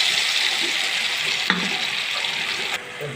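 Ground spice paste frying in hot oil with whole cloves, cardamom and cinnamon gives a steady, bright sizzle close by. A brief clatter comes midway, and the sizzle dips near the end.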